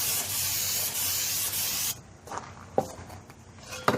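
Carburetor cleaner sprayed from an aerosol can onto a dirty air filter from a 1963 GM PD4106 bus conversion: a loud continuous hiss for about two seconds, then cuts off, followed by a few light handling clicks and knocks.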